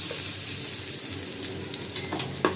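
Garlic and onion frying in a pan, a dense close hiss of sizzling oil with a couple of light stirring knocks near the end.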